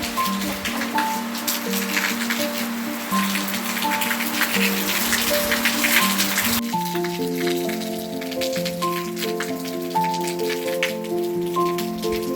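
Steady rain falls outside, a soft broadband patter heard under continuous melodic background music, with the rain clearer in the first half before the music takes over.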